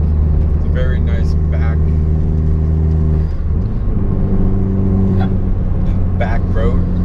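Dodge Dart cruising along a winding back road, a steady loud low engine drone with harmonic hum and a brief shift in pitch midway, while someone talks over it throughout.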